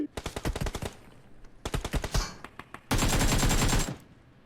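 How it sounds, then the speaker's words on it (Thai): Bursts of automatic gunfire in a multiplayer shooter game event, several rapid volleys in quick succession, with a sustained loud stretch of continuous firing near the end. "เมื่อกี้มันมีคนยิง"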